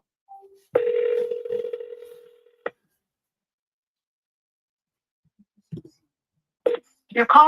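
A phone dials out on an outgoing call: a steady tone lasting over a second, a click, then a long silence, a few faint clicks, and a voice coming through at the end.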